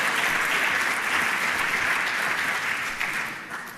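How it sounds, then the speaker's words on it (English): A conference audience applauds as panelists walk on stage for a discussion of quantum computing, with steady, dense clapping that holds for several seconds and then starts to taper off at the end. "Yes, a big applause, please."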